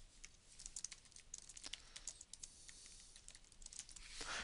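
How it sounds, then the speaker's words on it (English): An address being typed on a computer keyboard, a quick run of close, light key clicks in an irregular rhythm, fairly quiet and with no talking. "just type in the address in here"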